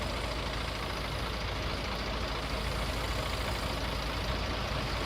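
A 1999 Busscar Vissta Buss tour bus idles in Euro Truck Simulator 2, its heavy engine giving a loud, steady, rumbling drone that stays even throughout with no talking.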